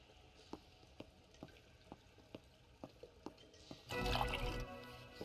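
Water filling an empty can in Fear Effect Sedna: a steady run of soft, evenly spaced drips, followed by a brief louder gush of pouring water near the end.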